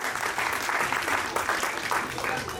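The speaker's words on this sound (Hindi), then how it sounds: "एक बार अरदास और रियान के लिए भी जोरदार" Audience applause for children at a children's theatre workshop and festival: dense, continuous crowd clapping at moderate loudness, fairly near, lasting the whole stretch.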